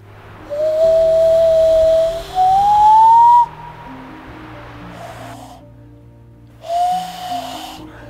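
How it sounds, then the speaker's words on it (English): A breathy, wavering whistle made with the wind-whistle technique rises in pitch over a few seconds, cuts off, then returns briefly after a pause, with a low hum beneath. "I'm trying the wind whistle that Jonna Jinton made a video about"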